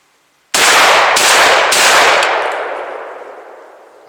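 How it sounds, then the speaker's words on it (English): A Hatfield SAS 20 gauge shotgun fires a single loud, close blast outdoors, followed by a long rolling echo that fades over several seconds, with no talking. "I'm going to turn around, shoot it down this direction so that you can see."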